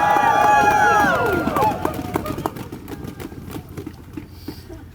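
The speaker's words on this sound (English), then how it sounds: "Give yourselves a huge round of applause for that one" A crowd cheering and whooping in cold weather at an outdoor public lands rally in Montana, loud voices rising over clapping at first, then thinning into scattered claps and chatter.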